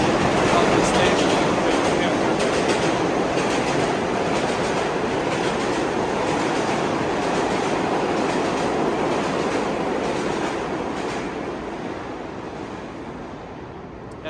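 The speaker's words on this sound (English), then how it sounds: "when the trains go by, it is impossible to hear me" Subway trains roar through the 79 Street station, a loud continuous rumble and clatter of wheels on rails that swamps everything for most of the stretch, then eases slightly toward the end.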